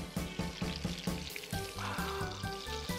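Chicken pan-frying for a herb-braised chicken dish, a close, busy sizzle with rhythmic pulsing crackles repeating steadily, loud and alone without any talking.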